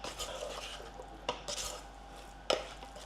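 Spices such as cumin, mustard and fenugreek powder are stirred into a homemade onion pickle, making quiet scraping and mixing sounds punctuated by two sharp utensil knocks against the bowl, with no one talking.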